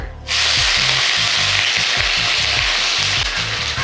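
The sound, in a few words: onion frying in ghee with cumin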